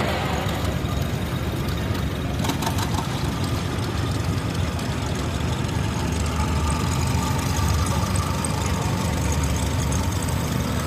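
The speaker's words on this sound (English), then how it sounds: "This is a 1930 John Deere A Unstyled Edition, owned and operated by Ray Schlag" A 1930 John Deere A unstyled tractor engine runs steadily at a threshing show parade, a continuous low chugging idle near and loud with outdoor background noise.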